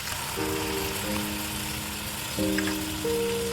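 Pulao masala with yogurt frying in a pot for mutton yakhni pulao, a soft, steady sizzle running throughout at moderate distance, with faint tonal hums drifting over it and no talk.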